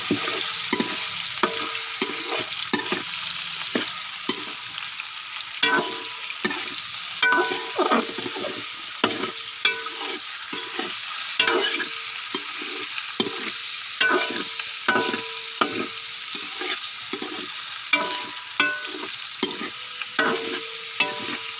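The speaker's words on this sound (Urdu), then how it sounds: "آئل سارا گرم تھی گئے، اب اس میں چکن ڈالیں گے، اس کو اچھی طرح فرائی کریں گے۔" Chicken frying in hot oil in a karahi while a spoon stirs it constantly, a steady sizzle broken by rhythmic metallic scrapes and clinks against the pan over about twenty seconds, close and without talk.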